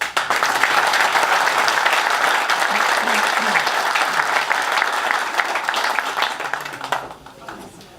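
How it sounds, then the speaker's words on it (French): Sustained applause from an audience honouring a medal recipient at a tribute ceremony, steady dense clapping that fills the room for several seconds before tapering off near the end. "Vous allez l'applaudir"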